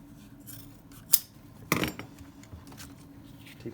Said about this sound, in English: I'm going to snip that all the way across there.